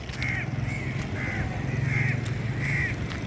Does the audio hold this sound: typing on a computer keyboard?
no